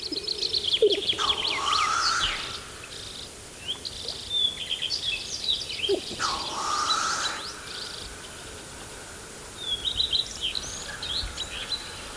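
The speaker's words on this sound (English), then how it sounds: "everywhere you can hear bird calls" Birds calling and chirping all around, with bright repeated trills and tweets coming in bursts over a soft outdoor background; no one speaks.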